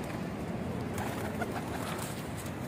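A pigeon coos faintly amid a steady outdoor rooftop ambience, its soft low calls partly buried in background noise.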